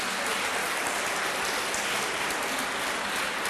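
An audience applauds Béatrice of team CESAG in a dense, even roar of many hands clapping, sustained and unbroken throughout with no talk over it.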